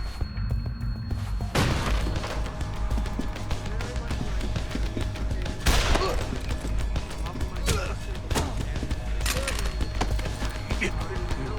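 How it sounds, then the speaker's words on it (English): Gunfire in the video game Deus Ex: Human Revolution comes as several sharp, loud shots and booms scattered across a busy, dense soundscape, with low rumble running throughout. "Gunshots! You've got to help me!"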